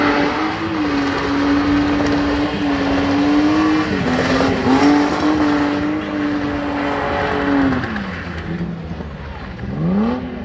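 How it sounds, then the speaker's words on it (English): A car with a dropped exhaust revs loudly and repeatedly nearby, its raw note rising and falling in several pulls with engine noise throughout. "This guy dropped his exhaust right there."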